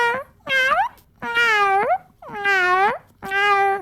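A human voice imitates a yowling cat in heat with five loud, drawn-out wailing cries separated by short pauses, heard alone.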